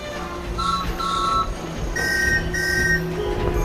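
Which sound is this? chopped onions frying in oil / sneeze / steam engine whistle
steam engine whistle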